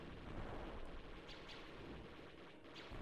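Turret fire in Star Wars Rebel Assault II on PlayStation 5, a dense, continuous rumble of booming blasts with a few sharper bursts standing out, loud and steady throughout.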